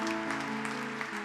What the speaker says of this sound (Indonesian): Tepuk tangannya meriah buat Yesus.